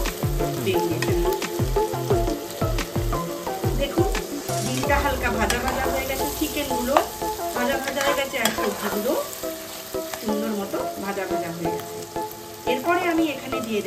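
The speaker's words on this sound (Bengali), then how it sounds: "এরকম নাড়াচাড়া করবো করে ভালো করে ভাজা ভাজা করে নেবো" Egg sizzles loudly in a hot pan while a utensil scrapes and stirs it in repeated strokes, frying for chicken gravy noodles; a voice is faintly heard at moments.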